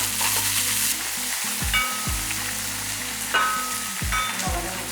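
Sliced onions sautéing with salt in hot oil in a pan give a constant close sizzle, broken by repeated scraping strokes of a stirring spoon.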